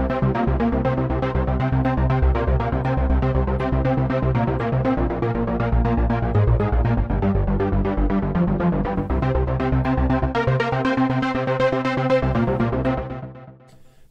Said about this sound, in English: So this is the initial ARP that loads up and it sounds like this.